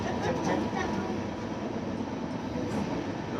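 Indian Railways passenger train 18551 Kirandul Express running on tracks between Visakhapatnam and Booraguhallu, a steady close rumble of wheels and carriage noise throughout, with faint voices under it.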